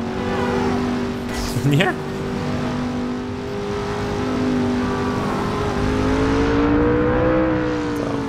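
An Oldsmobile car engine in the driving game Driver San Francisco, a steady humming drone that rises and shifts in pitch as it revs, with a brief voice over it.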